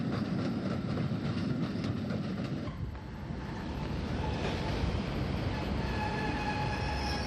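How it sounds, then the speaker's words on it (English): An electric multiple unit train arrives from Haywards Heath with a loud, steady rolling rumble that eases midway, then thin wheel squeals ring out as it draws in close. "An electric multiple unit arrives from Haywards Heath."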